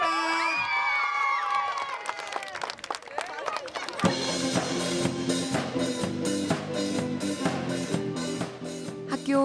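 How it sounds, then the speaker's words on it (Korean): At the close of a school sports day shared with local residents, a crowd cheers and claps continuously, a bright, dense wash of applause with shouting children, following a spoken announcement. "다 같이 박수 치면서 마치도록 하겠습니다."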